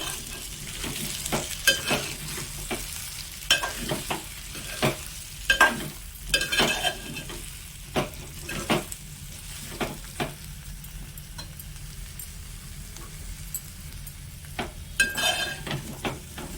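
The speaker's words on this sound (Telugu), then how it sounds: "ఇప్పుడు ఒకసారి మూతను తీసి కలుపుకుందాము" Bottle gourd curry (sorakai pulusu) stirred in a pan, a spoon scraping repeatedly in irregular strokes over a soft, steady simmering sizzle, close and moderately loud, with no talking.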